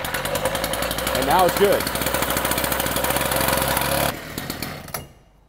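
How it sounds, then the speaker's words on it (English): A K12 cut-off saw engine fires up and runs loud and steady, its rhythmic chugging dominating before settling back and cutting off near the end; a person says a few words over it. "Make sure that decompression button is still pulled and you're gonna fire it up again."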